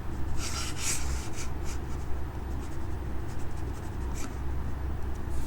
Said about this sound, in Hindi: इसको ढंग से लिख देता हूँ